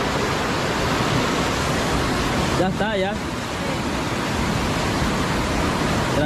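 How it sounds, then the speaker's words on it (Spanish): A flooded river rushing past its bank, a loud continuous roar of churning water throughout, with a brief voice speaking over it midway. "este río ha echado hasta tres crecientes seguidas"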